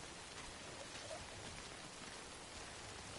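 Rain in the Death Stranding video game, a faint, steady wash of falling drops with a constant hiss and no breaks, heard alone without talk.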